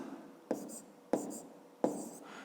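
Pen strokes on paper from a fifth-grade maths exercise being written out by hand, three short scratchy bursts each starting with a tap and trailing off, close and quiet.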